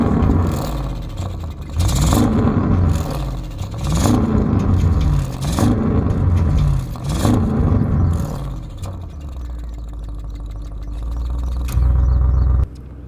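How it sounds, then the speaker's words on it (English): A 2021 Audi RS7 engine in standard mode fires up and runs, loud and close, with repeated revving swells that rise and fall every second or two, then settles into a steadier idle with a brief louder burst near the end. "I'm going to first turn the car on and fire it up in the standard mode"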